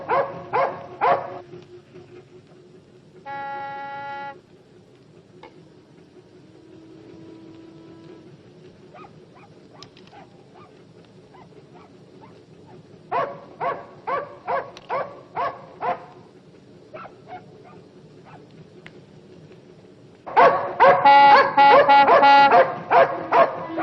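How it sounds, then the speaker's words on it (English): A dog barks from a barge in bursts of sharp yips and barks separated by quieter stretches, ending in a loud, rapid flurry of barking. "Listen, another dog, another barge."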